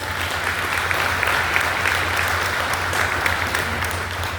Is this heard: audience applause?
yes